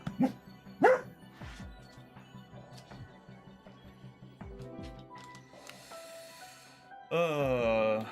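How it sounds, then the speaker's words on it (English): A pet dog barks indoors during a live video-game stream, a few sharp barks early and mid-clip amid game music and faint background sounds. "I'm gonna go put him outside because he's barking and driving me crazy."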